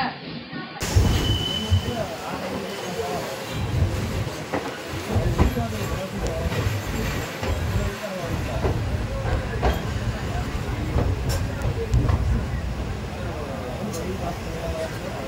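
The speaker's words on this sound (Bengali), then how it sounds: "আমাদের ট্রেন ডিপার্চার করলো, আর সামনে থেকে আসছে 16722 কোয়েম্বাটুর ইন্টারসিটি এক্সপ্রেস" A local train pulls out on the Tiruchirappalli to Madurai line, its broad rumbling wheel and carriage noise steady and close throughout, with people talking over it.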